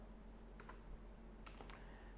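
Short bursts of quiet typing on a computer keyboard while entering a word into a WordPress custom link field, with a few quick key clicks in two small clusters over a faint steady hum.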